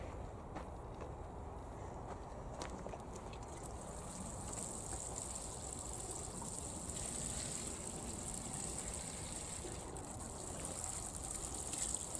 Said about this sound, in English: I'm going to give them a good watering